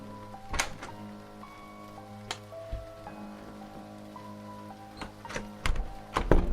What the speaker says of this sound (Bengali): এদিকে আবার মুষলধারায় বৃষ্টি আরম্ভ হলো